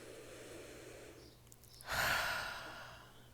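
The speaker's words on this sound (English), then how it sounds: "Take a deep breath" A single deep breath, a quiet inhale followed by a fuller, breathy exhale like a sigh, close and soft.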